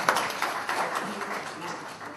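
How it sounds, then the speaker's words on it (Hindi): An audience at a music launch event claps for poet Kumar Vishwas as he comes on stage, producing a steady, moderately loud patter of many hands. "एक बार जोरदार तालियां चाहिए कुमार विश्वास के लिए"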